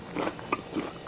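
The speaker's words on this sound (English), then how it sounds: "you get the crunch of the cereal with the ooey gooiness" A quick bite into a crunchy no-bake cookie made with Lucky Charms cereal and marshmallows gives a few sharp, close crunching snaps in about a second.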